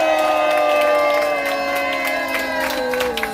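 Rally crowd outside the Gwacheon police station giving loud, sustained cheers and applause, with voices carrying steady chant-like tones throughout.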